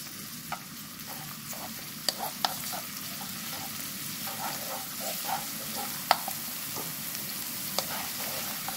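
Minced garlic and green onion stir-frying in chili oil in a pan, a steady fine sizzle with scattered crisp pops and occasional light scrapes of stirring, close and continuous without talk.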